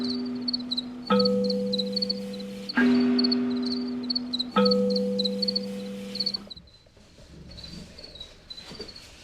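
A colony of male crickets chirps at night in dense, overlapping pulsing trills that lock into layered rhythms, loud and close, then the strongest voices drop out, leaving fainter scattered chirping.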